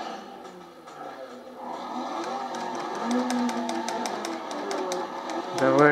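A 1,007-horsepower Pontiac GTO in the racing game Need for Speed ProStreet revs and accelerates through a half-mile drag run, the engine note climbing steadily with rapid ticking, and someone talks over it.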